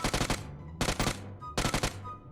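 Three sharp bursts of rapid automatic gunfire from an Uzi in a shooter video game, each lasting about half a second with short gaps between, loud and close.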